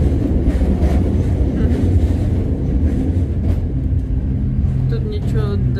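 Funicular tram cars passing each other on a hillside track in Lyon give a continuous loud rumble and rolling rattle of rail cars, with voices talking faintly beneath it.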